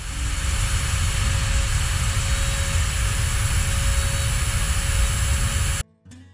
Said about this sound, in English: we've been working on this piece of epoxy putty for a little while here with the Dremel tool